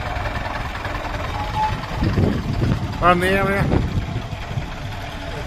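A vintage bus idles at the Wythall museum rally with the Longbridge rally visitors, a low, steady engine rumble running underneath as someone talks nearby over it.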